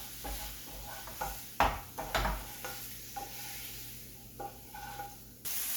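Snails with sage stirred quickly in a pan: a few scraping strokes and clinks over a quiet sizzle, with a louder hiss rising at the end.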